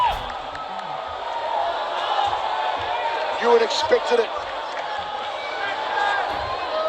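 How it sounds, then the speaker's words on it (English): Crowd at a ONE Championship bantamweight title fight cheering for Kevin Belingon, a steady roar from the arena with brief louder bursts, under a commentator talking. "This crowd rallying behind Kevin Belingon."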